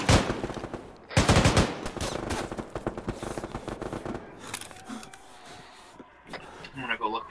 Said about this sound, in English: I'm getting shot to the west.